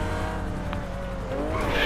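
A supercar's engine drones and revs in GTA Online, close and loud with a steady pitched tone rising toward the end, tires faintly squealing, and no talk over it.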